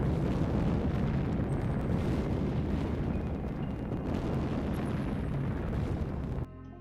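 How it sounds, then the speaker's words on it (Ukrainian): An enemy launcher detonates after a strike from a hexacopter drone, heard as a sustained, heavy roar of blast and fire rumbling continuously for several seconds before cutting off abruptly. "Епічна детонація ворожої пускової установки окреме задоволення"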